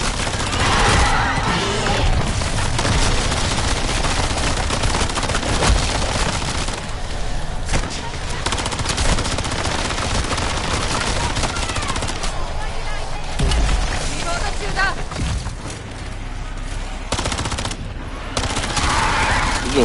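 Dense automatic machine gun fire with incendiary rounds blasts in a Call of Duty Modern Warfare 3 Zombies match, loud, continuous bursts over about twenty seconds, with a few brief pauses and other game noise underneath.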